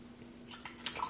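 Water is added to a sweet and sour sauce made with rice vinegar, giving a brief, soft splash and a couple of drips close by, with no talking.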